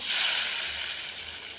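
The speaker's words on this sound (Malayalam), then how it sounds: "ഇനി ഇതിലേക്ക് കടുക് വറുത്തൊഴിക്കാം" Hot mustard seed tempering hits pork varattiyathu with a sharp burst of sizzling that peaks at once and slowly fades, loud and close with no talking.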